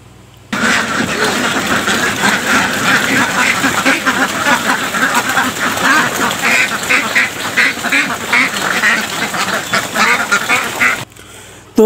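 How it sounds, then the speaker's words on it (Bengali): Farm ducks let out in the early morning set up a loud, dense chorus of quacking that runs unbroken for about eleven seconds, close and busy, with a faint engine-like rumble underneath. "আজকে হাঁসগুলা প্রায় 6:30টার থেকেও একটু বেশি চিল্লাচিল্লি করতেছে"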